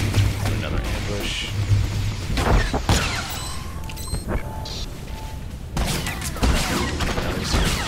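Gunshots in Star Wars: The Old Republic fire as a sniper fights through an ambush, with sharp booming bursts and blasts standing out over dense game effects and music throughout.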